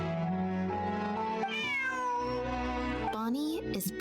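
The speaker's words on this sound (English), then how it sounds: "Bonnie is Pierre's cat." A cat in a video game gives several drawn-out, rising and falling meows over a continuous music-like background, fairly close and clear.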